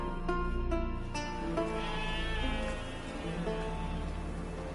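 A sheep bleats repeatedly, its wavering cries coming in a steady series against a busy background of other tonal noise, fairly loud and close with no talk over it.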